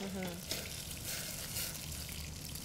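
Grand Marnier sizzling on high heat in a hot pan as the alcohol cooks off, a steady bright hiss filling the whole stretch, with a brief voice at the start.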